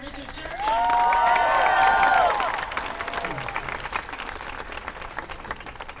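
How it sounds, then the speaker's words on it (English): An audience applauds Richard Sherman at Disneyland's 60th anniversary ceremony, a dense wash of clapping and some cheering that swells loudly for about two seconds, then settles into a steadier, softer patter of claps. "So please a round of applause for Richard Sherman."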